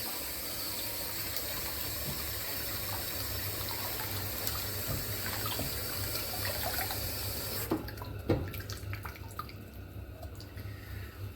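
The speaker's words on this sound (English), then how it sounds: "I'm just going to give this a rinse and run." Tap water runs steadily into a sink while a cork log is rinsed, a broad rushing hiss that cuts off near the end, leaving a few drips and light handling knocks.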